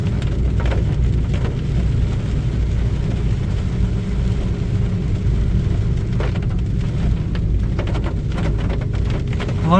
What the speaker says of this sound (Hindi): बारिश बढ़ गई है थोड़ा और।